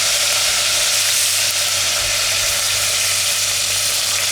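Curry leaves sizzle and crackle in hot oil in a pan while masala khichdi is being cooked, a continuous dense frying hiss that is loud and close, with no voices.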